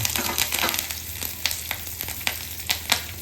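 Curry leaves and broken dried red chillies sizzling in hot oil for a tadka for Gujarati kadhi, a steady close crackle with sharp pops scattered throughout, no talk.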